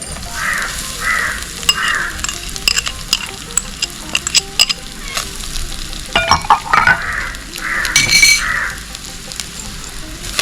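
Grated coconut fries in a pan with a bright steady sizzle and bursts of stirring scrapes, while crows caw repeatedly in the background.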